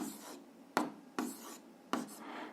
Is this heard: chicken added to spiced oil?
no